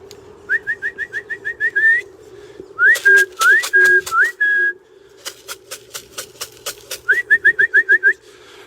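A person whistles to racing pigeons in a loft: loud, close bursts of quick repeated rising whistles and sliding notes, separated by pauses filled with sharp clicks and a low murmur of cooing birds.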